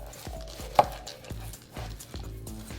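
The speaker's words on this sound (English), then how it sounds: "Take your handy dandy knife and you'll cut off the top of the pineapple" Knife chopping through pineapple on a cutting board, a series of about eight separate thuds at an uneven pace, close and clear with no talking.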